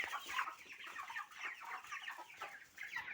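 Cobb 500 broiler chickens clucking and chattering together inside a shed, a steady dense flock murmur with overlapping calls, fairly close, no talking.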